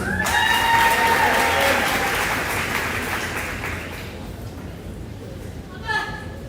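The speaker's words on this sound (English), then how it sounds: "Please join me in a round of applause" An audience at a high school commencement ceremony applauds in a broad, steady wash of clapping that slowly fades, with an amplified voice speaking over it and a brief crowd sound near the end.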